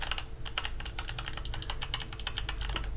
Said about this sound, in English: So this keyboard comes with Kale Box White switches.